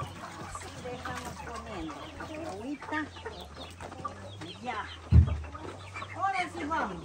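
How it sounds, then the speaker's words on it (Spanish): Chickens cluck and chatter continuously at close range as they eat on a farm, with a few louder squawks toward the end. "Ve las gallinas, cómo están comiendo."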